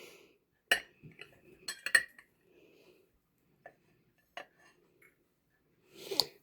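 Gold plates with a shimmery accent clink against each other as they are handled, in a few sparse, light chinks spread out over a quiet tabletop setting.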